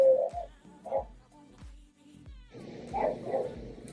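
A dog barks a few times in short, sharp bursts with pauses between, some yippy and whiny, fairly near.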